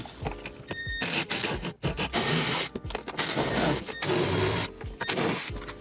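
Four bolts are removed from the lower dashboard of a Lexus IS with a power tool, producing close, loud mechanical whirring bursts broken by short pauses and clicks.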